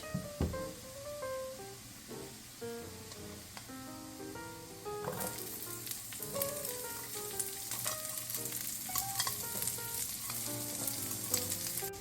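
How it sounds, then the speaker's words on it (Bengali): Chopped garlic and onion sizzle in a pan, a crackling fry that grows denser and louder about halfway through, with background music playing throughout. "রসুন কুচি রসুন সামান্য লাল হওয়ার সাথে সাথে দেব পেঁয়াজ"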